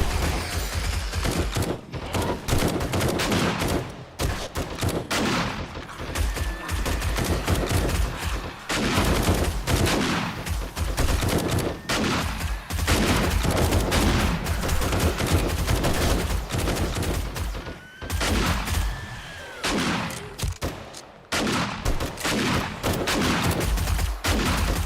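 A belt-fed machine gun in a video game fires long, loud, close bursts of rapid shots, broken by brief pauses between them.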